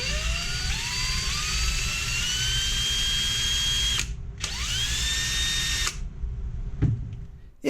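A DeWalt cordless drill spinning a 3/8-inch extension whines, its pitch rising as it spins up, cuts out twice, then revs again before stopping with a clunk. Loud and close, no voices.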